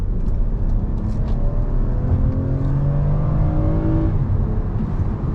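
A 2021 Toyota Camry XLE accelerates hard out of a U-turn, its engine note rising steadily in pitch under loud, close cabin and road noise with no talking.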